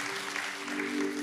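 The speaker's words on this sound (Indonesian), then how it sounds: "berikan tepuk tangan bagi nama Tuhan" A church congregation applauding during a sermon, a dense, steady wash of clapping throughout with a faint sustained musical tone underneath.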